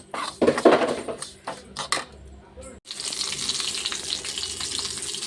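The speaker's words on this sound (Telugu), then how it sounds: "తర్వాత అయితే పచ్చిమిరపకాయలు ఫ్రై అవుతున్నాయి" Green chillies frying in a pan for a sesame and tamarind tangy curry, with loud clinks and bumps of utensils early on, then a steady, close sizzle that continues to the end.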